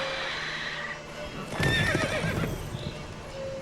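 A horse in The Witcher 3 video game gives a short, clear whinny over the faint clip-clop of hooves and game ambience, with a voice speaking briefly.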